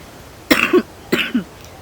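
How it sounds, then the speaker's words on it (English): A 27-year-old woman with a cold and a lost voice coughs twice, close and loud, each a short rough burst, with silence around them. "Forgive me, I will cough a lot during this video."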